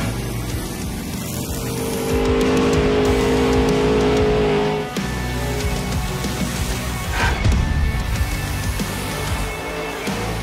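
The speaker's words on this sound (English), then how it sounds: "we are here to break a world record of the most revolutions done in a Monster Jam" A Monster Jam monster truck spins donuts, its big engine roaring loud and steady with revving surges and tire noise throughout, sounding close and continuous without speech.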